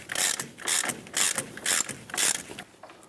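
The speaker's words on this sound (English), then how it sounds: "I'm going to go ahead and switch over to my ratchet." A hand ratchet loosening a nut on a Hummer H3 front lower ball joint, with five or six even bursts of rapid clicking, close and clear, and no talking.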